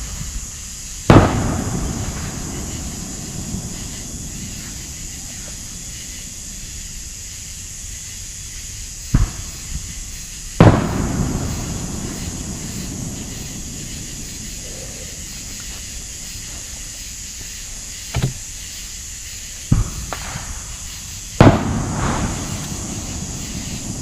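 Scattered firework explosions go off at irregular intervals, some sharp cracks and some heavier booms, against a constant background hiss with no talking.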